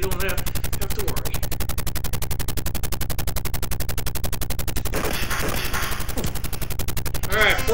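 Rapid, steady machine-gun fire from the arcade video game P.O.W. rattles continuously, loud and even, with a brief burst of game effects partway through.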